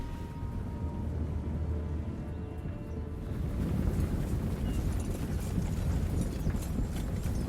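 Hooves clip-clop steadily in a medieval strategy game, a dense clattering bed of hoofbeats that swells louder after the first few seconds with no talking.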